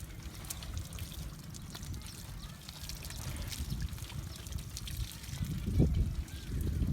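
Water trickling and pouring as calves are bathed on a muddy farm, steady low splashing that swells near the end, mostly without speech.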